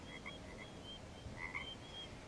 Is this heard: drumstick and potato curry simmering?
no